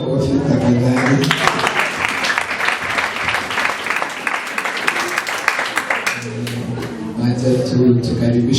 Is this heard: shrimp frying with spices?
no